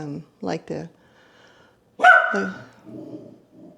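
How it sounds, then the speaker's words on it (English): A pet dog barks a few times in a nearby indoor room: two short barks, a pause, then a louder bark with trailing growly breaths. "sorry about my dog."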